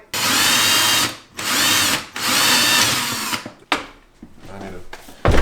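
A handheld power drill whirs loudly in several sustained bursts of about a second each, separated by short pauses, ending with a few shorter stop-start runs close to the microphone.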